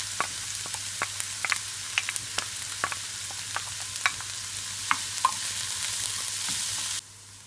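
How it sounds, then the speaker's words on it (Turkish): Thinly chopped onion fries in a pan, giving a steady close sizzle broken by scattered sharp clicks and scrapes of stirring, with no voices before the sound cuts off abruptly near the end. "İnce ince kıydığımız soğanı pembeleşene kadar kavuralım."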